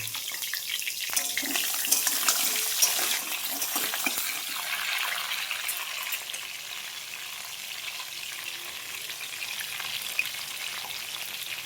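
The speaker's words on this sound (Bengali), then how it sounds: "দেখো তেলটা গরম হয়ে গেছে, আমি এবার এই কাঁকড়াটা ভেজে নেব লাল করে।" Pieces of crab fry in hot oil with a steady, close sizzle and crackle that holds for about twelve seconds, slightly louder early on and with no voices over it.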